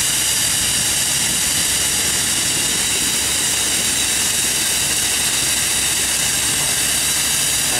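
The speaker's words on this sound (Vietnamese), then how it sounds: "Động cơ bên dưới là động cơ Hino ha." A Hino diesel engine drones steadily during the launch of a large wooden boat, a loud continuous mechanical roar with broadband noise and no speech.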